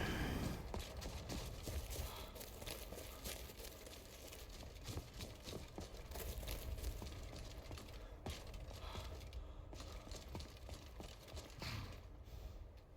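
Horse hooves clip-clopping steadily in Skyrim, a roaming horse near Helgen, a regular clattering beat over constant game ambience, moderately near throughout.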